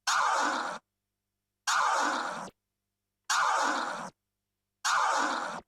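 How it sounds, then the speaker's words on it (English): Four loud forward scratches on a turntable, each a sustained gritty sweep of the record cut off sharply, separated by short silent gaps. "We've covered the forward scratch"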